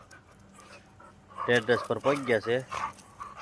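Dogs at night near a parked truck outside a steel yard pant and give short whimpering yips, fairly close, while someone talks over them.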